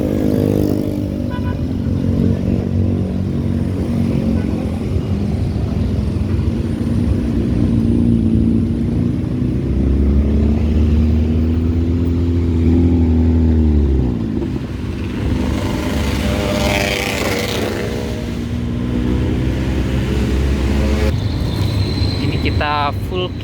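Dense, slow-moving road traffic of cars and motorcycles on a congested route near Padang, West Sumatra, with engine drones and a motorcycle revving past nearby under steady talk.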